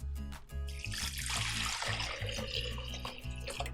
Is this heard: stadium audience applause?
no